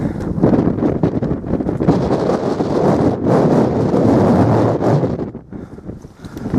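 Strong wind buffets the microphone on the flat summit of Sugarloaf Mountain, roaring in loud, gusting surges that ease briefly toward the end.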